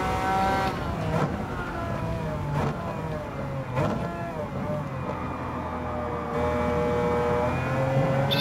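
Ferrari race car engine in Gran Turismo 7 on a circuit challenge, a continuous engine drone with rising and falling pitch as gears shift, with occasional sharp bursts over a steady rumble.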